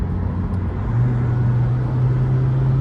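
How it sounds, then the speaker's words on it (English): A 2015 Mitsubishi Lancer GT engine hums steadily with a low exhaust drone that deepens and strengthens partway through, heard from inside the moving car. "The sound really changes of the car with the exhaust. You can really hear it."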